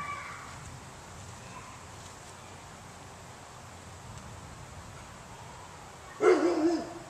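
A sudden loud bark from a big dog breaks in near the end, after several seconds of quiet, steady background hiss.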